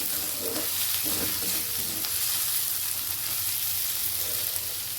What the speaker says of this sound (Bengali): আদা, রসুন, পেঁয়াজটা কিন্তু সুন্দরভাবে ভাজা হয়ে গেছে